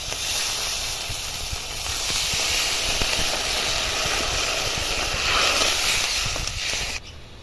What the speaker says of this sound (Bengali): এবার এর মধ্যে আমি জলটা দিয়ে দিচ্ছি